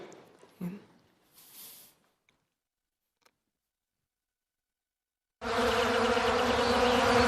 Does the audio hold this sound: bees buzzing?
yes